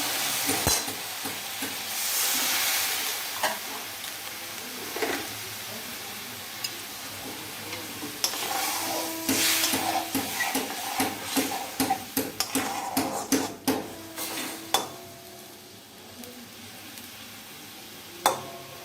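Mustard-based heron fish curry being stirred in a pan, with a steady sizzle and intermittent scraping and clinking of the spatula against metal, close and fairly loud, with no talking.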